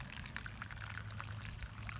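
Coffee pours from a pot in a soft, continuous trickling stream with a gentle splashing texture, faint and close.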